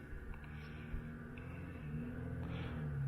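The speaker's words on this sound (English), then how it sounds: "Right on cue comes a noisy car." A noisy car passes outdoors on a hot day, a low rumbling engine swelling steadily louder as it approaches over about three seconds, with no talking.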